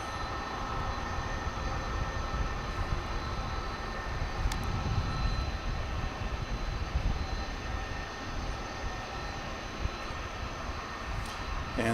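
An American Airlines Boeing 737-800 jet roars steadily at DFW Airport, a broad continuous engine rumble heard from a moderate distance with no breaks.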